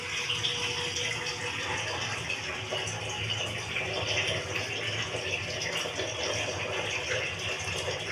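Running tap water during handwashing, a steady splashing stream from a faucet with faint rattles, no talk.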